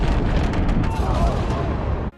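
Church explosion from The Batman, heard as a loud deep rumbling blast that roars and sustains before cutting off sharply at the end.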